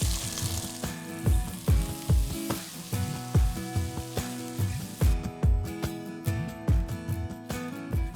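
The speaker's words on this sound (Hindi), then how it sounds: "अभी मटर को लगेंगे 2 तड़के। पहला तड़का बहुत बेसिक है, पहले तड़के में सिर्फ मटर," Fresh green peas frying in hot oil for a first tempering before ginger and green chili go in, a steady close sizzle broken by repeated stirring knocks of a spoon against the pan, with no talking.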